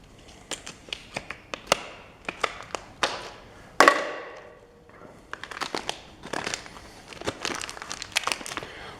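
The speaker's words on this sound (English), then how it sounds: "Let's get it out of the plastic here." Crinkly plastic packaging is pulled and torn away from a cheap universal-fit 22-inch lawn mower blade, sharp close crackles and taps in bursts with a loud rip midway, no talking.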